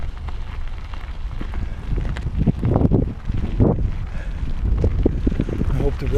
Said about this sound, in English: road noise isn't too bad